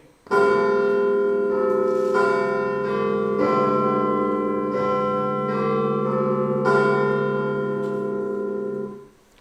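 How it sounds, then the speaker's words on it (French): Church bells chime in a slow sequence of overlapping, ringing strikes, each note sustaining and blending into the next before fading out. "Avant le lever du rideau, on entendra carillonner."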